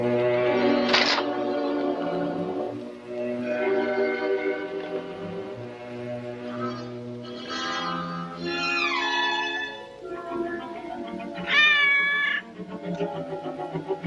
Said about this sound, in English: Lost that cat.